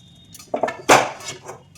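Hot chushi dough, destined for payesh, set down onto a metal plate: a couple of soft metallic knocks followed by a sharper clatter of dish and utensil, close and brief.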